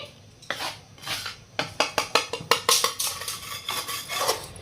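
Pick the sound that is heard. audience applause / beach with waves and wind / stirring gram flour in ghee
stirring gram flour in ghee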